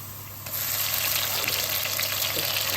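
Pounded peppers and tomatoes pour into a hot pot for jollof rice, a sudden wet rush and sizzle that starts after a brief quiet moment and carries on as a steady close hiss.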